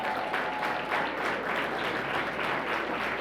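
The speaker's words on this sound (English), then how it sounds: "just stand and give him a round of applause" Audience applause fills a birthday celebration for Reverend Jesse Jackson Sr., a dense, steady wash of clapping from a large crowd that holds at full strength throughout with no talk over it.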